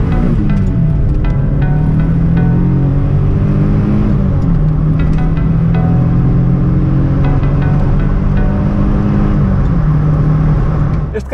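Three-cylinder engine of a 1987 Daihatsu Charade GTti rated at 101 hp, heard from inside while driving: a steady, loud, low droning hum that holds throughout, with no speech.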